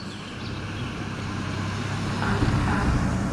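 A car's broad road rumble builds gradually and steadily as it crosses a bridge near Pfeiffer Big Sur State Park, swelling louder toward the end as the vehicle rolls past.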